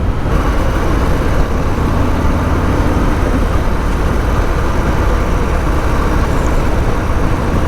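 A Harley-Davidson Fat Boy motorcycle rides fast on a bad road, with a loud, dense, unbroken roar of engine and wind rushing past, steady from start to end.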